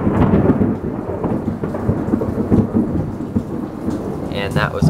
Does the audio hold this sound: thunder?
yes